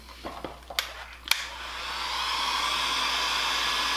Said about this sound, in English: So I'm going to take my heat gun,